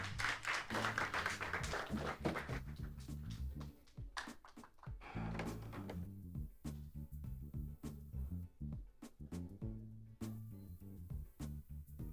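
An audience applauds Oleksandr at the WBrC 2025 brewing championship final with dense, sustained clapping that later thins into scattered individual claps.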